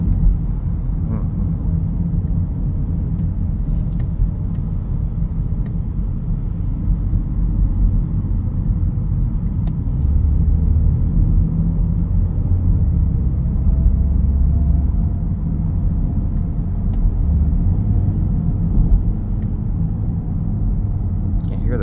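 A 2023 BMW X1 turbo engine heard from inside the cabin, a heavily muffled low rumble that holds steady throughout with a slight swell partway, with no talk over it.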